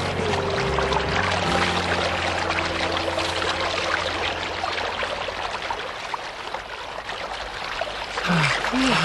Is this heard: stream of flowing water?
yes